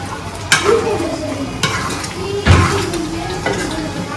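Stuffed brinjal curry in thick gravy stirred in a pan, four distinct spoon scrapes against the metal at a steady pace over a low simmering sizzle, close and fairly loud with no voices.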